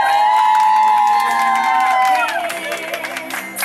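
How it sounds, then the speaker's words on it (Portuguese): Crowd at a friendship celebration in Parque Edu Chaves cheering and whooping over a loud sustained musical tone, voices and shouts layered together, fading somewhat toward the end. "Uma salva de palmas para vocês!"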